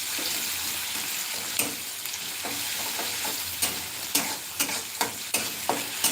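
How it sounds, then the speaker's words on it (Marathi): Onions sizzle steadily in a pan as they fry toward pink, with sharp spatula scrapes and clinks growing more frequent toward the end, heard up close. "तर आपला कांदा छानपैकी गुलाबी रंग येऊपर्यंत भाजून घ्यायचं"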